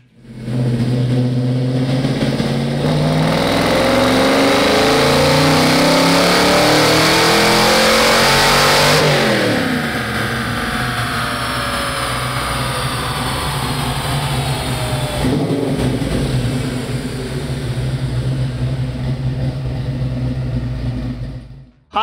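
Fox Body Mustang fitted with a Vortech supercharger revving hard on a dyno, engine climbing through sustained loud pulls with a rising supercharger whine, easing briefly before building again, with no voices.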